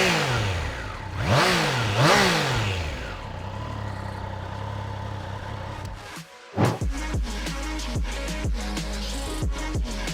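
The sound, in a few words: Triumph Trident 660 motorcycle engine starting and revving, exhaust note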